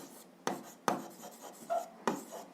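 A pen writes out an algebra solution on paper, giving a few distinct taps and short scratchy strokes spaced about half a second apart, close and quiet, with no talk.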